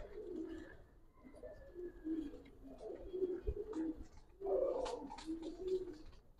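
Several Giribaz pigeons coo steadily, overlapping low throaty calls repeating close by for several seconds, with no talk.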